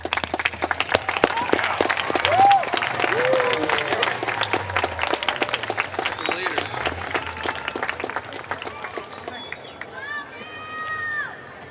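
Graduates and families applaud at a high school commencement ceremony, sustained clapping and scattered cheers filling a large venue, with whoops and voices rising over the crowd.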